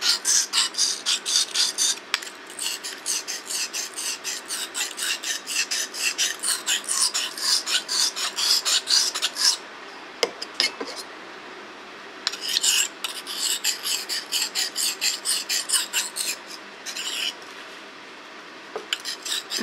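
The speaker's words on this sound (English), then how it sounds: "with the rough side, and then just clean it all up with with the finer side of the stone" An Opinel No. 8 knife blade rasps back and forth on a wet sharpening stone in quick, regular strokes, grouped into long runs with brief pauses, close and clear with no talk.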